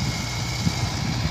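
Mahindra Arjun 605 DI 57 HP tractor engine running steadily with a low, continuous rumble and constant mechanical vibration, close and fairly loud, no talking.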